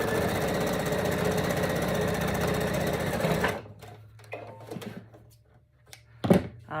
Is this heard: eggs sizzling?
no